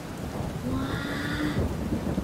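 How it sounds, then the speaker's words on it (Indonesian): A storm sound effect of rain and rumbling thunder with a whinny-like tone, a dense continuous roar of rain with a low swelling rumble, steady and fairly loud, no voices. "Wah, mereka kena badai ya. Anginnya besar."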